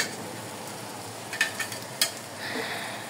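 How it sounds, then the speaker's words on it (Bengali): Garlic chili paste stirred into frying dried fish in a pan, a low sizzle under a few sharp utensil clinks and scrapes, no voices. "এবার রসুন মরিচের পেস্টগুলো লাড়তে থাকবেন"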